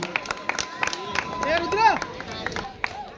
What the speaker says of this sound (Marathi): एकदा जोरदार टाळ्या वाजवायच्या आहे